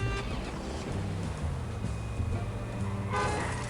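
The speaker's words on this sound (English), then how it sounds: "I like how they honk at me." Car horns in the mobile driving game Does Not Commute toot briefly amid a steady traffic-like rumble, with a louder burst of honking near the end.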